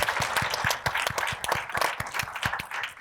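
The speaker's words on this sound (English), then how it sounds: "Give yourselves a round of applause" Conference audience at an ACE2023 session clapping, close and lively, with distinct individual claps in an uneven rhythm.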